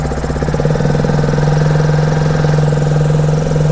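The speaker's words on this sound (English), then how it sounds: "So let's see whether the bike starts or not." Hero Xpulse Rally Edition motorcycle fitted with FuelX catches and settles into a close, loud, steady single-cylinder idle with a rapid even throb.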